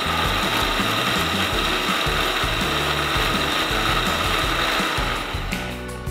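An electric grinder loudly whirs and rattles as it blends cooked spices, onion and tomato, a steady, close mechanical drone with a rhythmic pulsing beneath it that eases slightly near the end.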